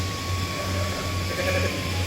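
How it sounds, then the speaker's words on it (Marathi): A goat bleats in a drawn-out call over a steady low hum, with no voices. "ते ते बघा बंडूर जाते बकरी."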